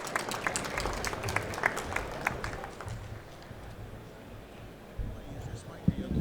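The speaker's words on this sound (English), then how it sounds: "Let's give him a round of applause." Audience clapping at an AMA Expo presentation as the presenter is welcomed up, scattered and uneven hand claps near the start that thin out, with quiet murmuring and footsteps beneath.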